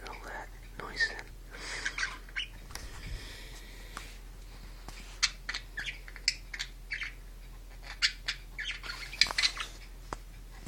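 Budgerigars in an aviary give faint, scattered squawks and chirps under quiet whispered talk, close but soft, in short irregular bursts.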